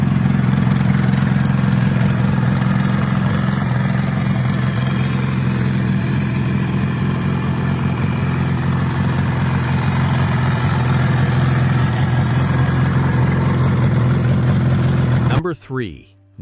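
A stock Yamaha RD350 motorcycle engine idles with a loud, steady, low burble that runs unbroken for about fifteen seconds before cutting off abruptly.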